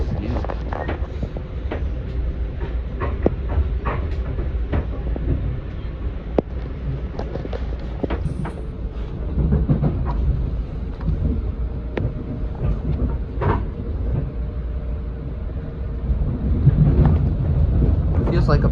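Kawasaki M8 commuter train riding along the Harlem Line, a steady low rumble with occasional clanks and wind noise throughout, with people talking over it.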